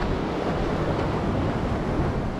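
A glacial meltwater river on the Kareri Lake trek in Himachal Pradesh rushes with a loud, steady, close roar of churning water, continuous and unbroken with no voices.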